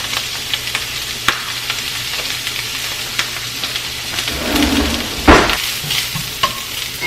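Chives fry in hot oil in a pan with shrimp fettuccine Alfredo on the way, a steady close sizzle dotted with sharp pops and occasional stirring scrapes, one louder burst near the end.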